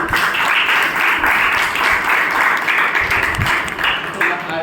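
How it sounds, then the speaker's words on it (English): A meeting audience applauds a tiny baby guest, a continuous crowd of clapping hands at steady loudness with voices murmuring underneath. "Let's all clap for this small baby"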